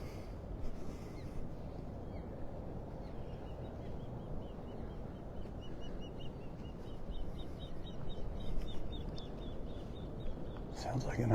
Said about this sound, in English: Sounds like an osprey.